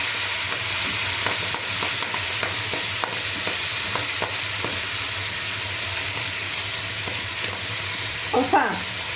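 Cauliflower, including its stalk, sizzles steadily in a hot pan as it is stirred among mushrooms, a loud continuous frying hiss with soft scraping stir strokes and a brief clatter near the end.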